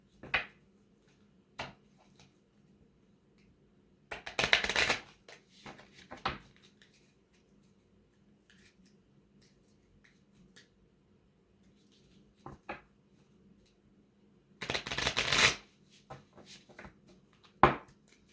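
A deck of oracle cards is shuffled in two short, crisp riffling bursts separated by long quiet stretches, with a few scattered light taps and clicks in between, close and fairly soft.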